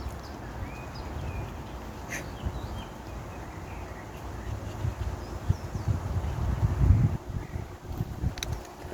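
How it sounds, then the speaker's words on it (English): Wind blowing outdoors at sunset makes a low, rumbling buffet across the microphone that swells and gusts toward the end, with faint bird chirps and scattered light rustles in the background. "The wind blowing."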